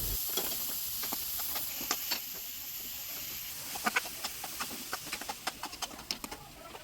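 Crushed garlic, chili, onion, carrot and cabbage being stir-fried for momo filling, with a soft steady sizzle and a string of sharp spatula scrapes and clicks against the pan that grow more frequent toward the end.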